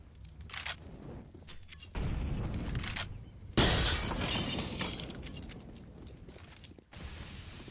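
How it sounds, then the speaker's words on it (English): Glass shatters during a Counter-Strike match on the Inferno map at cs_summit 8, two sharp loud breaks amid clattering gunfire and game noise. "I love the sound of that breaking glass."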